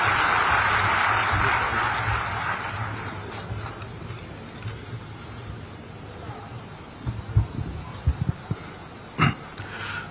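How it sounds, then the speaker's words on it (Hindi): A crowd applauds to welcome the chief minister at a spiritual gathering at Shantikunj in Haridwar. Dense, rain-like clapping is strongest at the start and slowly fades into scattered claps and thumps. "जोरदार तालियों से अभिनंदन और स्वागत"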